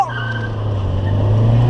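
A 1999 Peugeot 206 XS with a 1.6 engine of 90 horsepower accelerating hard on the road, its engine note rising steadily and loud from start to finish, heard from inside the car.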